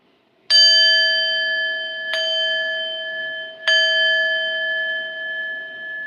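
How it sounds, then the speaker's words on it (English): Three clear, ringing chimes strike one after another as a podcast sign-off, each bright bell tone ringing long before the next strike, loud and close with no talking. "We're chiming out."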